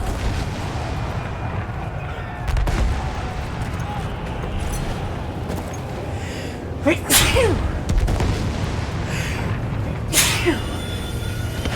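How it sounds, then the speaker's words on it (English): Two short, sharp sneezes burst out a few seconds apart over a steady rumble of artillery fire and distant booms on a World War I battlefield in the game Battlefield 1, with speech in the background. "Sorry, the train's making me sneeze."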